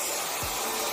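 A hair dryer runs on high fan with low heat, a steady close breathy whoosh of airflow lasting the whole second.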